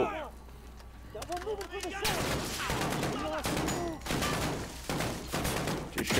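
Video game gunfire from a Modern Warfare campaign battle: a near-constant stream of loud shots and bursts, with voices calling out over the firing.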